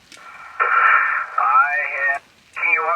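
Noisy amateur radio reception on an SGC SG-2020 transceiver carries a warbling, distorted transmission in bursts with brief gaps, hissy and band-limited, a weak signal down in the noise.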